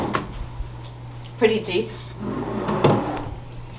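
Drawers in a Disney Saratoga Springs Resort villa bedroom sliding open and shut, two or three brief wooden thumps and rattles, with a person speaking briefly between them.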